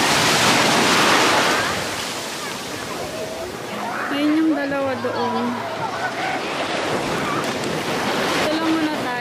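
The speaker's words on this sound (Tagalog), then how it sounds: "Grabe yung alon ng lakas" Strong ocean waves break on a beach in Shizuoka, Japan, with a loud surging roar that swells and recedes amid wind buffeting the microphone, while a person talks over it.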